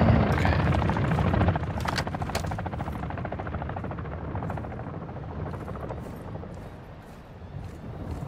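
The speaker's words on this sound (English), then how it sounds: "Enemy attack helo is heading your way." An attack helicopter in the video game DMZ thunders close by, with loud rapid rotor chopping that fades slightly as it moves away.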